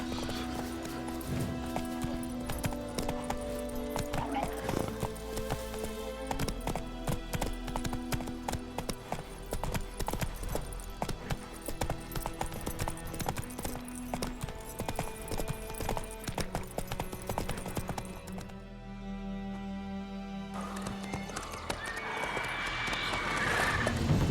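The horse Roach gallops in The Witcher 3, with steady hoofbeats and clip-clop running throughout. The hooves play under constant game music and ambience.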